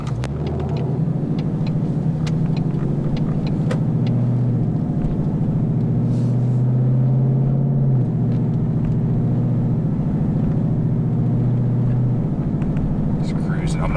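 Car interior while cruising, recorded on a GoPro: a steady low engine and road drone holds throughout, with faint shifts in tone as the car moves along.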